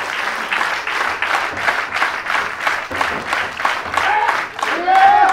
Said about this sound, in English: The crowd shows their appreciation for this beautiful bout.